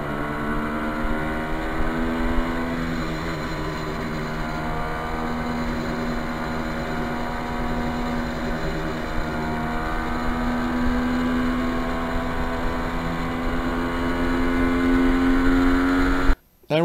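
A 1973 Kawasaki H1 motorcycle is ridden, its engine a steady, loud drone with rising and falling pitch under constant wind rush, continuing throughout before cutting out abruptly at the end.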